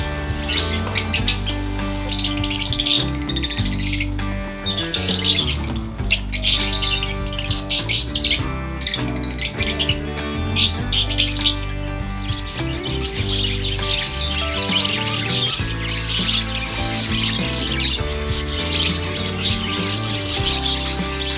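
Many exotic baby birds, newly hatched and hand-fed, chirp and squawk together in a dense, continuous chorus, loud and close throughout with no talking.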